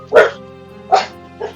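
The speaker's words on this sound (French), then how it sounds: "C'est pas un coq, c'est un chien." A dog gives three separate barks, the first two loud and close, the last one softer, over a steady low background hum.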